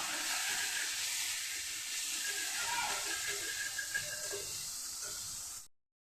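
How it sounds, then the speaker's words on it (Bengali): Water splashed into frying spice paste gives a loud, steady steamy hiss lasting several seconds, then cuts off abruptly. "অল্প কিছুটা জল দিয়ে দিচ্ছি, দিয়ে মশলাটাকে কষিয়ে নেব।"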